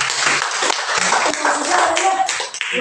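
A church congregation bursts into sustained, dense applause lasting the whole stretch, loud and close, with some speech faintly mixed in.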